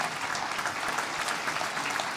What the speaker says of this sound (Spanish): Denle un aplauso a la palabra de nuestro Dios.